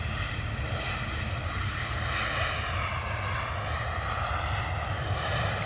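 Airplane touching down at London Stansted Airport, a continuous loud broadband engine roar and rushing air that holds steady throughout with no voices.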